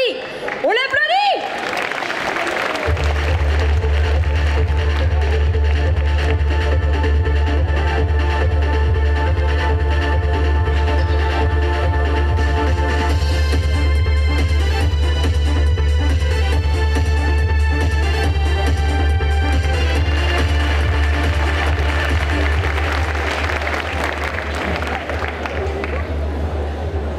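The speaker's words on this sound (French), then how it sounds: "Donc je vais vous demander d'accueillir très chaleureusement Lunati" Audience applause and cheering at a Quimper Japan manga convention cosplay parade, a loud sustained wash of clapping and crowd noise under booming music that holds for most of the stretch.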